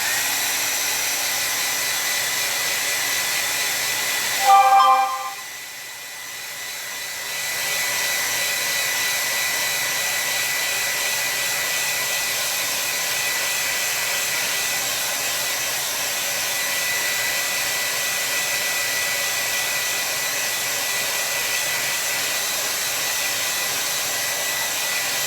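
A hair dryer blows steadily on a gouache and watercolor painting, a constant close whooshing drone that briefly dips and shifts near the start before running on evenly.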